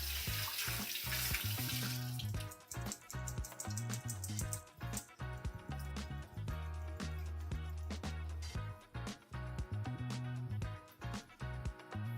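Liquid from canned beans drains and splashes into a sink, a steady close running-water wash with a brighter hiss at the start, joined by repeated knocks and clatters of the can and strainer while cooking a vegetarian shepherd's pie.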